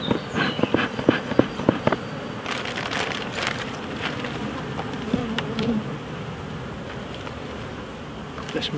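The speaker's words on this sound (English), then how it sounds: "There's a lot of bees about." Honey bees buzz steadily around a hive entrance, a dense, close swarm of wingbeats from a queenless colony that is raising queen cells, continuous throughout with a few louder passes near the start.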